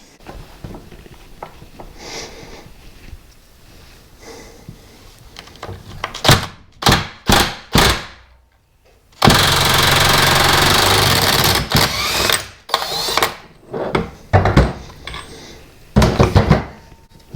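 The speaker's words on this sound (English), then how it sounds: "Therefore you can undo the nut." Tools work the pinion nut on a Classic Mini differential, giving a series of sharp metallic clanks and knocks, then a sustained loud rattling burst like an impact gun, followed by more scattered clatter and a final short burst, with no talk.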